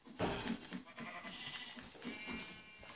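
Sheep bleating repeatedly in Minecraft over a busy background, several overlapping calls in close succession, fairly loud and continuous.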